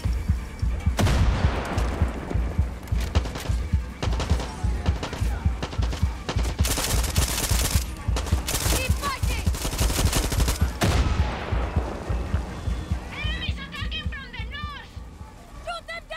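Rapid bursts of gunfire and automatic weapon fire from a shooter video game, dense and continuous for most of the stretch, thinning out toward the end as a voice speaks over it.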